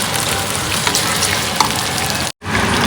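Taro pieces sizzle and crackle steadily in frying oil with small pops, a dense frying hiss that cuts out briefly near the end before resuming.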